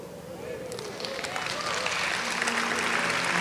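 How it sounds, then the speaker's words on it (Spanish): An audience at an evangelical gathering applauds in a sustained, moderately loud wash of clapping that builds slightly over a few seconds. "Bueno, aplauda."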